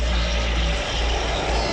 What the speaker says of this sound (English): There's our helicopter!